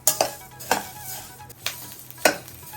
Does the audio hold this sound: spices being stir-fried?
yes